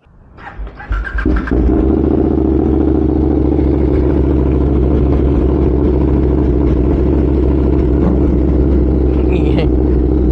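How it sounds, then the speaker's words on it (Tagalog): A motorcycle engine starts and settles into a loud, steady idle up close, with a faint clatter and brief voices audible partway through. "Ingay ng motor ang putik."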